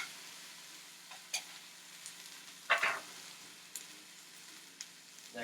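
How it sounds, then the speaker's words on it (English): Spinach stirred in a hot pan over a steady low sizzle, with a few scattered scrapes and clicks of the utensil and one brief louder burst of stirring in the middle. "Mix it up a little, let it wilt down."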